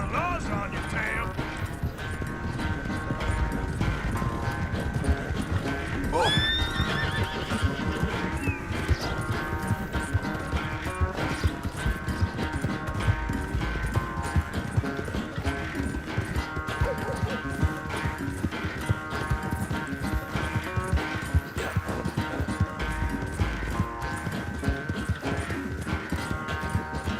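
In Red Dead Redemption 2, a horse gallops steadily with rapid rhythmic hoofbeats under a continuous music score, with a brief whinny partway through and a voice speaking over the ride.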